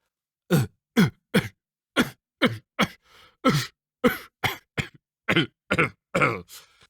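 Repeated harsh coughing and throat clearing, about a dozen short bursts in uneven clusters, close and dry against silence.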